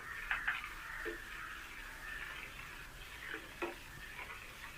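A spoon stirs a thickening almond milkshake mixture in a pan on the stove, producing soft scraping and a faint steady simmer, with a few light taps against the pan, quiet and close.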